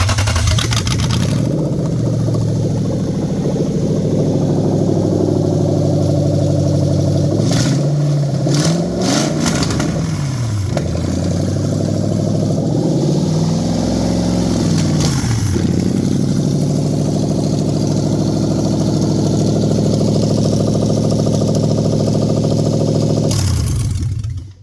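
A Toyota 3UZ-FE V8 running on a standalone ECU with a performance tune starts and idles close and loud, then is revved several times, the pitch sweeping up and down, before shutting off at the end.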